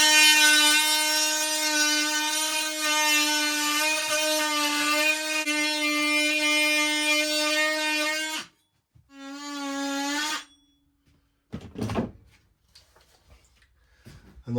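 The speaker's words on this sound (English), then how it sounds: "using the multi-tool, just a flat blade, basically go make the cut" An oscillating multi-tool fitted with a flat blade makes a plunge cut into wood for a lighting plinth, a loud close buzzing drone that stops, resumes briefly, then gives way to a few knocks.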